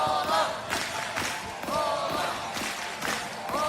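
An arena crowd at a FIBA 3x3 basketball World Cup game in Amsterdam cheers and roars steadily, with ball thuds and sharp shouts rising over the broad noise.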